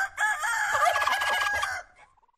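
A loud, busy chorus of turkeys and chickens, gobbling and clucking together for about two seconds before fading off, close by with no talking.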